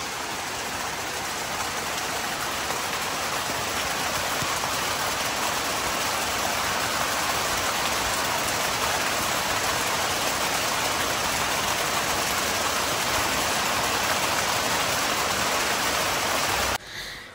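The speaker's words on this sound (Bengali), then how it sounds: "এত বৃষ্টি রাত্রের থেকে, সারা রাত বৃষ্টি, সারাদিন বৃষ্টি" Heavy, steady rainfall after a whole night and day of rain, a dense, even hiss that holds unbroken and fairly loud, cutting off abruptly just before the end, with no voices.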